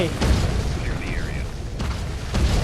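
Booming explosions and gunfire from the real-time strategy game Yuri's Revenge, heavy low rumbles and bursts rolling under a player's excited talk.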